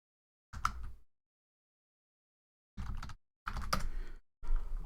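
Password keys tapped on a computer keyboard in short quiet bursts: one brief flurry, a long pause, then three closer clusters of rapid clicking.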